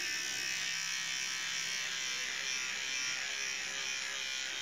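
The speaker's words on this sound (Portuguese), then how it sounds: "conselho que eu dou, faça aquisição de uma maquininha de acabamento" Cordless finishing clipper trimming a dog at a pet shop, a close, steady high-pitched electric buzz running without break.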